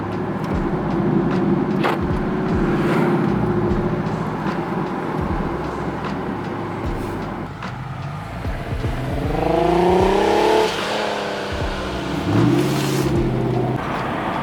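A BMW E30 drives past and revs, its engine note rising and falling through several gear pulls, moderately close and loud, with other traffic rumbling underneath and no talk.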